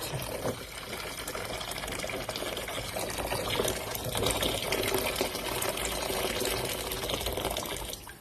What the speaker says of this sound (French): Alors, un peu de vinaigre blanc. Et de l'eau bien bouillante.